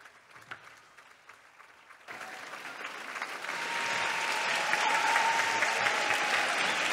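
An audience at a Bulgarian school's patron saint celebration applauds, beginning as a few scattered claps and swelling into sustained, dense clapping from a large hall.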